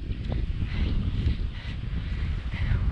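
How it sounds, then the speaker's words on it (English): Strong wind buffets the microphone with a steady, heavy low rumble and gusty roar throughout, with no voices. "Super windy."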